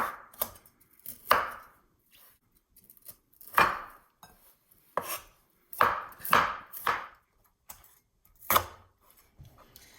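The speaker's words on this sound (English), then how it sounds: "Slicing the red onion." A knife slices a red onion on a cutting board, giving about a dozen crisp, close chops in irregular bursts with quiet pauses between them and no talk.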